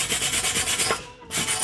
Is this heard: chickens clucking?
no